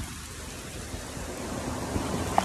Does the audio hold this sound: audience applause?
no